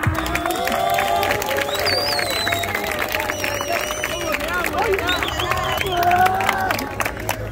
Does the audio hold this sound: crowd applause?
yes